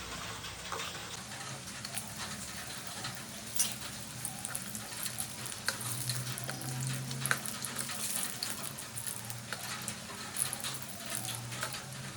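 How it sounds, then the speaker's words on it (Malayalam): Fish frying in hot oil gives a steady, quiet sizzle with scattered crackles and pops throughout, heard alone without voices. "അപ്പോൾ ഇതാ അത് ഇട്ടിട്ട് മീൻ വറക്കാൻ വെച്ചു"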